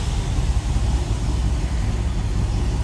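A 1971 Ford LTD Convertible engine idles steadily at close range, a low continuous rumble with no pauses or revving.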